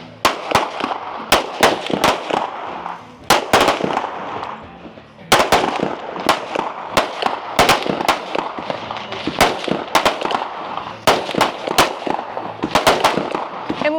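Pistol shots ring out at a shooting range during a women's competition stage, sharp loud cracks fired in quick clusters with short pauses between, several shooters overlapping, with faint background chatter.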